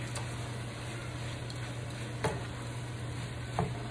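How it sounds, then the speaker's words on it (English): Spoon stirring short grain rice into paella in a pan, a steady soft scraping and sizzle with a couple of sharper clinks, close and alone without talk. "Stir everything in."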